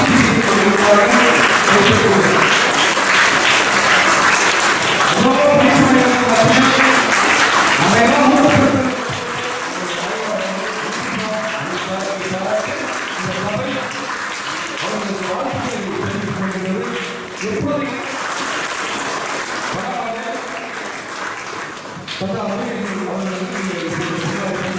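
Audience claps at an award ceremony, sustained applause that is loud at first and then continues a little softer, with a voice talking over it in the later part.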